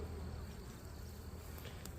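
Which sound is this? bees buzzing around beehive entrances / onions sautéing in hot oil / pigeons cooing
bees buzzing around beehive entrances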